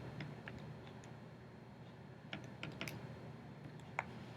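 Soft, sparse button presses as a polynomial is keyed into a graphing calculator, faint irregular clicks in a quiet room.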